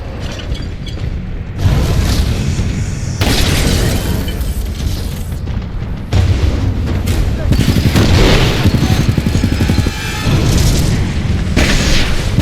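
Heavy booming explosions and gunfire as an enemy Titan is destroyed in the video game Titanfall 2, loud repeated blasts in bursts with game voice lines mixed in.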